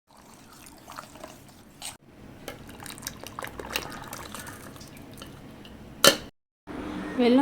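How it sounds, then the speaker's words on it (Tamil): Jaggery water is poured into cooked moong dal (split yellow lentils) for mango payasam, a trickling, splashing pour running steadily for several seconds, broken by a brief pause, a sharp clink near the end and louder liquid movement after. "வெல்லம் கரைச்ச தண்ணியை சேர்த்துட்டோம்."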